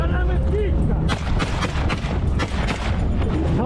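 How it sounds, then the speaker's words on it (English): Soldiers fire guns at a Russian recon drone. A dense series of loud, sharp shots and booms follows in quick succession under a noisy field background, with voices mixed in. "the soldiers opened fire on the target"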